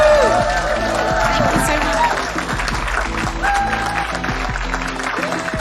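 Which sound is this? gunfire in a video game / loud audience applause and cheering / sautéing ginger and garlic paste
loud audience applause and cheering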